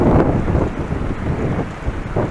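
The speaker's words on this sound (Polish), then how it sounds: "Zaś się trochę wiatru zrobiło, ale jest ciepło." Wind buffeting a microphone outdoors on a mild autumn evening near a meadow, loud rumbling gusts rising and falling throughout the clip, with no one talking.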